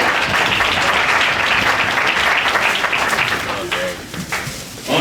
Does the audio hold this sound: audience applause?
yes